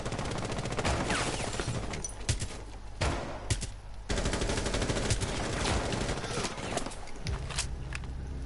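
Loud, close gunfire in Rainbow Six Siege, with rapid automatic bursts and sharp individual shots that keep coming with only brief gaps.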